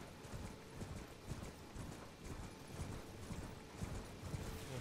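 A horse's hooves clip-clop in Elden Ring as the mount travels, a steady galloping patter of muffled thuds with faint mechanical clinks, heard alone without voices.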